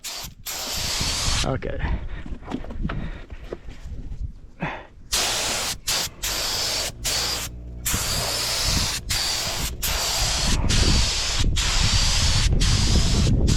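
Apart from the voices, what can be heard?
spray gun painting a Honda Civic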